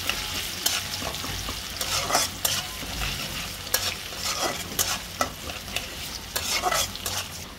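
Garlic and onions sizzle in hot oil in a pan while a utensil stirs and scrapes them in irregular bursts, close and busy with a constant frying crackle underneath.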